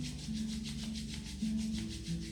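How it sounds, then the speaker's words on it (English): Two palms rubbing briskly together in front of the chest make a steady, soft, close swishing friction that keeps a regular back-and-forth rhythm over a low, constant background hum. "I'm going to bring your palms together in front of your chest. I'm going to rub them to create warmth."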